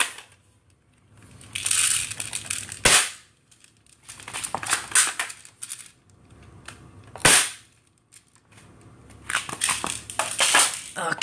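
A knockoff PSP handheld console being smashed: two sharp, loud cracking blows stand out, with stretches of crunching, grinding plastic and screen debris between them.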